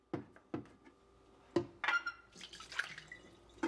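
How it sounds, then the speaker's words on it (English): Water is emptied from the reservoir of a Keurig K-Supreme coffee maker, with a few distinct drips and splashes followed by a brief quiet trickle, close and fairly faint. "So now I'm going to just empty the reservoir."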